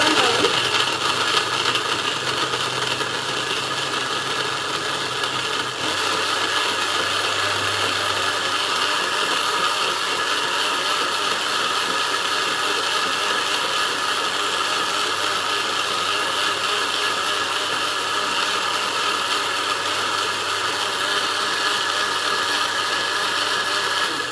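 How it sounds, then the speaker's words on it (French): Kitchen blender mixing ingredients with a continuous loud whir, a brief shift in pitch early on, then a steady run to the end with no speech. "Et ensuite, je vais mixer le tout"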